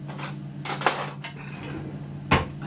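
Metal teaspoons and cutlery clinking in a home kitchen while baking, a few bright clattering touches close by, with a quiet hum between them and no talking.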